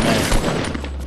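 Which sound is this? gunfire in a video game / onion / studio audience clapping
gunfire in a video game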